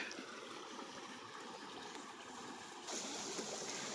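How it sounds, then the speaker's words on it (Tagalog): A stream running through a farm lot flows steadily with a constant rushing, trickling wash, close and even throughout, with no voices. "kung gusto nyo pong mapalaki yung tubig, kailangan lang pong ipunan or salaan or harangan para maging swimming pool"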